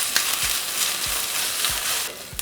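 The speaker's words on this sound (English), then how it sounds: "Once hot, we're going to add 1 onion and half a cup of corn. We're going to saute for 3 minutes." One onion and half a cup of corn sautéing in hot oil in a pan, a steady close sizzle with a few soft low thumps of stirring at regular intervals.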